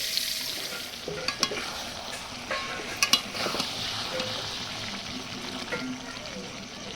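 Boiled cauliflower frying in a pan, a continuous sizzle with occasional utensil clinks and stirring knocks, heard up close at moderate loudness.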